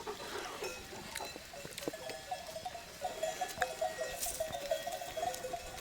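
A flock of sheep ambles slowly through green pasture, their bells tinkling faintly and hooves clicking in scattered soft taps, all quiet and somewhat distant, with no talk.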